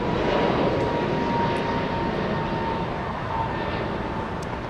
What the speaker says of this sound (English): And we have American Airlines flying to Reagan National, an A321neo